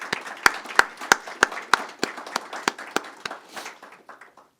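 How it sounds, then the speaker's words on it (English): At a graduation ceremony for X-ray technician and MRI program classes, a few people clap in slow, sharp claps that soon fade into scattered softer applause. "You guys deserve a round of applause for that."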